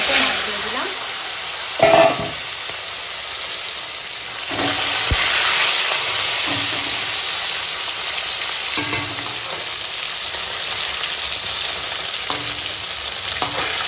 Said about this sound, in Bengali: মাছগুলো বেশি ভাজবো না এরকম হালকা ভাজা হয়ে গেছে